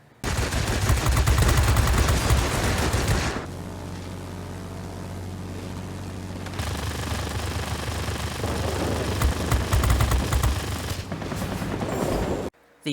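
Aircraft machine guns fire in a World of Warplanes dogfight between propeller fighters including a Spitfire, LaGG and P-40. Dense, loud bursts run over engine drone, with a quieter engine-only gap in the middle and a second stretch of sustained firing.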